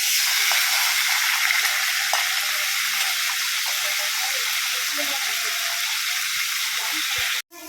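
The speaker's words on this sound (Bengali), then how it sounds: "মাছের মাথাটা ভালো করে সুন্দর করে ভেজে নিতে হবে" A fish head frying in oil for a bottle gourd dish gives a steady, close broadband sizzle with faint scattered crackles, running continuously and cutting off abruptly near the end.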